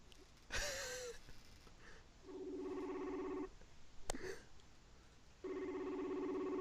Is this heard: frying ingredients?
no